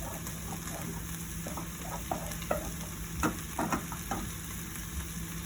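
A roux of flour and butter cooking in a pan, a soft steady sizzle broken by scattered stirring scrapes and taps, nearby and fairly quiet.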